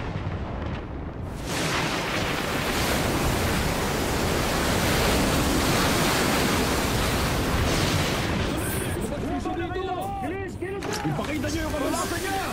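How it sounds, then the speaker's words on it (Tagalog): Strong storm waves from an animated cartoon crash and roar as a dense, loud wash of surf that builds and then fades, with voices shouting near the end. "Ang lakas ng alon!"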